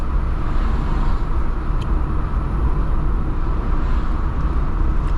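Steady road traffic noise near Rangiriri, a continuous broadband roar of passing vehicles at constant loudness, with no talking.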